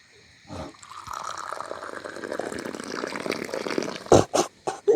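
Liquid poured steadily into a cup outdoors in a forest camp at dawn, a trickling, splashing stream lasting a few seconds, followed by a few sharper knocks and clatters.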